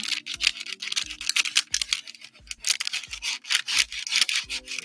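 A bone folder rubbed firmly back and forth over a pencil transfer laid on a rubber eraser for stamp carving, giving close, steady scratchy strokes in a quick repeating rhythm with no talking.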